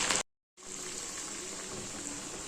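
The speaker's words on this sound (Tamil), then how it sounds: "காஞ்ச எண்ணெயில் ஒன் பை ஒன்னாக ட்ரா பண்ணிக்கலாம்" Small split-pea vadas fry in hot oil, giving a steady, crackling sizzle that starts after a brief moment of silence and continues evenly and close up, with no talking.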